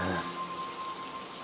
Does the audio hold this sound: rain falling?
yes